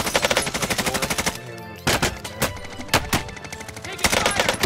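Rapid automatic gunfire from an SMG in the Warzone video game, with a long fast burst followed by a few separated loud shots and then another burst, all close and dominant.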